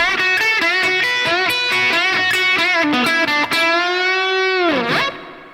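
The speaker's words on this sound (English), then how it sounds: "it's got distortion and also a little phaser going on" Distorted Telecaster electric guitar with a light phaser sweep plays a loud riff of choppy chords and single notes, ending on a sustained, swirling held note that bends and fades out.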